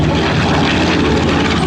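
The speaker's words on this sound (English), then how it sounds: "What a beautiful aircraft." A B-25 Mitchell bomber roars past at an air show, its multi-engine propeller drone loud, broad and steady for the whole moment, with no break in the noise.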